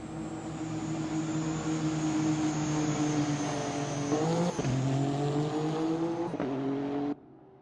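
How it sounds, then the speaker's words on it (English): A number 30 Honda GT3 race car in a racing video game at Fuji sustains a loud, steady engine drone with brief gear-shift dips, then cuts off abruptly near the end. "Here's the first car out on track, the aforementioned number 30 Okami Mio Honda"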